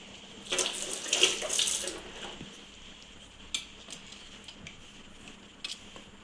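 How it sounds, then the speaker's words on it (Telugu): Water runs from a kitchen tap as hands are washed after cracking eggs for an omelette, a loud splashing burst in the first two seconds that eases into a softer trickle with a few light clinks. "ఆ తర్వాత దాన్ని డస్ట్బిన్లో వేసేసి చేయి కడుక్కోండి."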